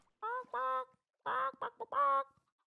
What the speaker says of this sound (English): Is he pretending to be a freaking chicken?